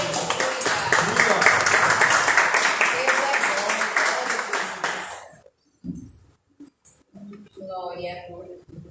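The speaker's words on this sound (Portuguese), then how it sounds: "E as palmas louvam o nome do Senhor" A church congregation at an evangelical service claps hands together in a dense, rhythmic burst that fades out midway, followed by quieter scattered sounds and a voice speaking.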